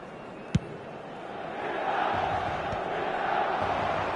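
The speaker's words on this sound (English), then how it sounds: "at least the crowd are appreciative of his efforts." Stadium crowd in the eFootball video game, a broad, steady roar of cheering that swells after a sharp click and holds at moderate level to the end.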